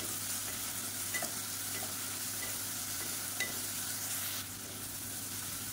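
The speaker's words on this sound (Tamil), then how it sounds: "வெங்காயம் இந்த அளவுக்கு வதங்கினா போதும்." Chopped onion and tomato sautéing in a pan for a drumstick paya curry, a steady soft sizzle with occasional faint stirring scrapes, alone with no talk.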